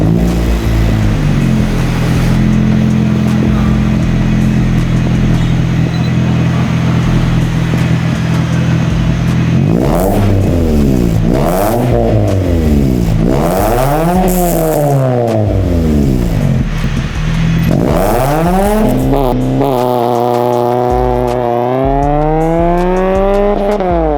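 Motorbike fitted with a titanium exhaust at idle, then revved hard several times in rising, falling sweeps, loud and close, with a sustained high rev toward the end.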